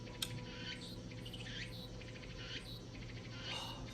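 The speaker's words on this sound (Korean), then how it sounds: "매미가 소리가 굉장히 크네요." Summer cicadas buzz in pulsing, overlapping waves outdoors, a steady shrill drone that swells and fades every half second or so, heard at a modest distance with no talking.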